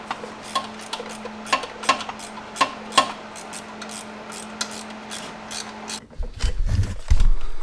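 Ratchet clicking in short bursts while tightening bolts during a clutch replacement on a Subaru WRX with the FA20 engine, close and crisp, followed by heavier metallic clunks near the end.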